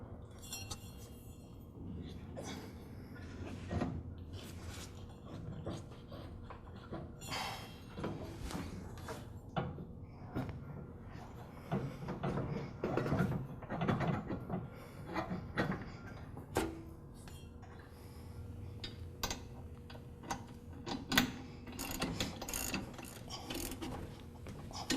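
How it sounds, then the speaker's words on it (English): Motor pulley and belt being swapped on a Troy-Bilt Pony lawn tractor, with quiet scattered metallic clicks, ratcheting and clinking of tools and parts at close range, and sparse talk in between. "Now I can replace the motor pulley. And again, I need to make sure I get the belt around the keepers"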